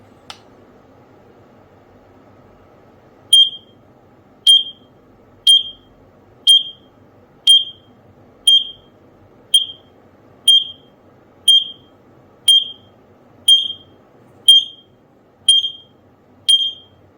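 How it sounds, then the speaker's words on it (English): Two interconnected Wisualarm wireless carbon monoxide alarms sounding together during a test, giving a steady series of about fourteen sharp, loud, evenly spaced electronic beeps roughly one per second, close by, after a brief click at the start. "Both of them were beeping at that point, and you could see alarm and power were blinking on the second one."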